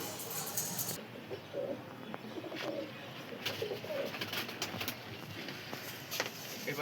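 Pigeons of a Kalpora Kalnoma racing line coo softly in a home loft, low repeated throaty calls with faint wing flutters and light shuffling, quiet and close.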